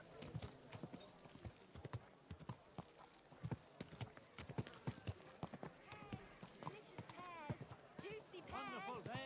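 Horse hooves clip-clop in a steady walking rhythm in the video game Kingdom Come Deliverance 2, fairly quiet, with background voices and a short whinny-like sound near the end.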